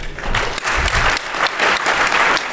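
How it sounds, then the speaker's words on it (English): An audience at a security conference claps loudly and continuously, a dense wash of applause with no voices. "If you're not clapping, I'm a little disappointed."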